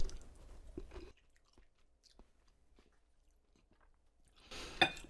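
Someone bites into and chews air-fried shrimp cooked from frozen during a taste test, giving a few soft, close crunching bites with quiet gaps between them and a louder crunch near the end.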